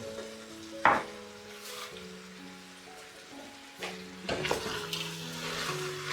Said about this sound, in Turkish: Evet hepsi şöyle bir karıştıralım